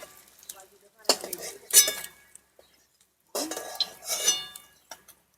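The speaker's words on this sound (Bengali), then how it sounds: "এবার আমি এগুলোকে খুব ভালো করে ভেজে নেব।" Cabbage fritters frying in hot oil with stirring and utensil clinks against the pan, in two loud bursts separated by quiet gaps.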